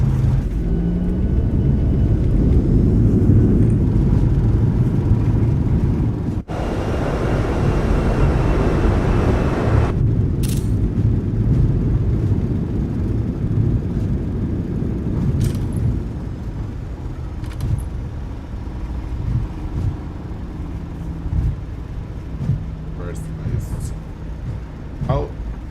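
A Boeing 737-800 in Microsoft Flight Simulator 2024 roars with engine reverse thrust after landing, a loud broadband rumble that swells, then drops abruptly and fades to a lower rolling hum with occasional clicks.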